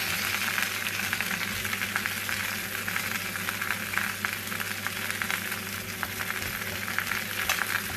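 Peppers and a bay leaf sizzle in hot oil in a frying pan. The frying crackles steadily and densely, close and fairly loud throughout, with no one talking.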